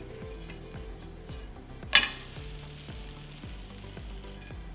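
Ragi set dosa flipped on a hot pan, a single sharp scrape and sizzle burst near the middle, then a soft continuous frying hiss over a faint steady hum.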